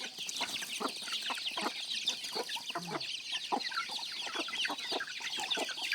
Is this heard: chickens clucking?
yes